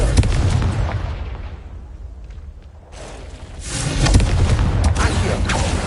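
Confringo fire spell blasts in Hogwarts Legacy: loud, booming explosive bursts with a rumbling roar that dips briefly, then swells again into dense crackling blasts.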